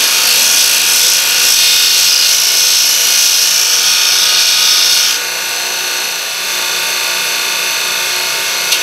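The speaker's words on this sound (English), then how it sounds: "to the belt sander." A belt sander grinds custom motorcycle handlebars in a workshop, a loud, steady high-pitched abrasive whine that drops in tone partway through as the metal presses against the belt.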